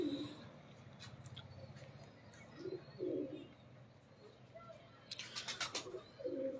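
Pigeons of a rare breed coo softly in a low, repeated rhythm at close range, with a few brief higher chirps and faint background noise between the calls.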